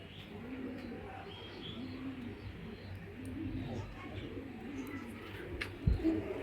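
Racing pigeons coo softly in a loft, low murmuring coos and occasional chirps under quiet background noise, with a brief thump near the end.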